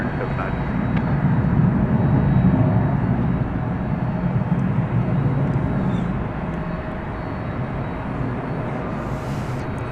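An American Airlines Boeing 737 takes off at night from runway 18 left at DFW Airport, a steady broad jet roar that swells around the middle and then eases slightly, with faint tower radio chatter underneath.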